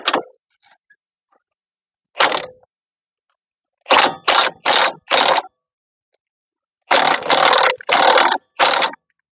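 Ratchet tightening 17mm bolts on a Mazda 3 strut: bursts of rapid clicking, one short run, then a cluster of four and another of four, loud and close with quiet gaps between.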